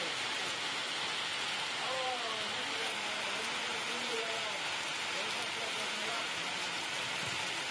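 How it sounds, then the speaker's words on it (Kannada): Heavy rain pouring down in Mangaluru, Karnataka, a steady dense hiss of rainfall that stays even throughout without a break, with faint indistinct sounds underneath. "ಮಂಗಳೂರಲ್ಲೂ ಸಿಕ್ಕಾಪಟ್ಟೆ ಮಳೆ ಆಗ್ತಾ ಇದೆ"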